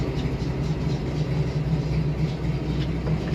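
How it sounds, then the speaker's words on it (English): A 1971 AMC Hornet SC/360 V8 rumbles steadily from inside the moving car, a continuous low engine drone with road noise and no voices. "Such a nice sound to this car."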